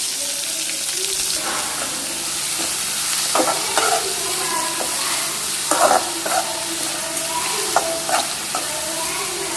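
Onions sautéing in a pan with ginger and curry leaves, a steady hiss of frying with intermittent scraping stirs and clinks over nine seconds, close and moderately loud.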